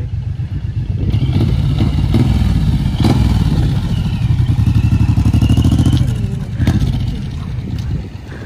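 A motorcycle engine runs steadily close by, loud and rumbling with a clattering, throbbing rhythm for several seconds, on the road up to Signal Hill in St. John's, Newfoundland, with no talk over it.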